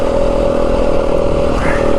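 Yamaha WR250F dirt bike engine pulling under throttle on a mountain trail ride in southern Arizona, a loud, close, steady buzzing drone with a strong constant pitch and a light clattering edge.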